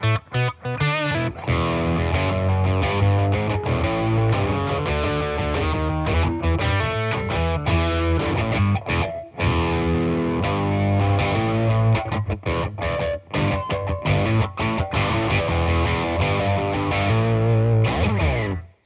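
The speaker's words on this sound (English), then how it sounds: "As soon as I want that octave sound that I dug there, I can hit this and I get it." Electric guitar through a Boss Katana amp with an octave effect engaged, playing a continuous, loud, distorted passage of chords and runs for nearly twenty seconds with no voices.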